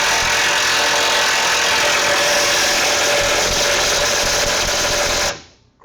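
A power tool runs steadily and loudly while tightening bolts on a lifted Dodge truck, holding one sustained whine for about five seconds before cutting off abruptly near the end.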